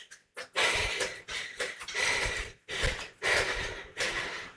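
Heavy, loud breathing from a cyclist during an all-out FTP test: rapid, forceful gasping breaths in a steady rhythm, close to the microphone, with no speech.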